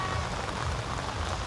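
Steady rain falling outdoors at a muddy plant market in Metro Manila, a dense, even hiss of drops pattering on surfaces throughout, close and constant with no voices.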